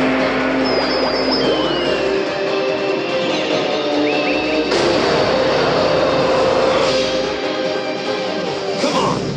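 Synchro summon effect in Yu-Gi-Oh! Duel Links, a loud, dense whooshing roar with high sweeping tones and surges that swell twice, like a jet engine powering up, filling the whole span without talk.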